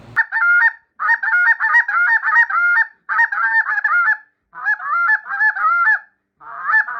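A handheld BW Films goose call imitates honking geese, blown close and loud in rapid strings of honks broken by short pauses, with no talking.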